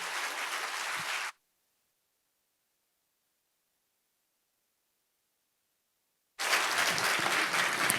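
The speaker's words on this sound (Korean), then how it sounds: "나오실 때 우리 큰 박수로 우리 마크채 목사님 환영하겠습니다" A church congregation applauds to welcome a pastor, a burst of clapping that cuts off abruptly into silence and then resumes loudly several seconds later.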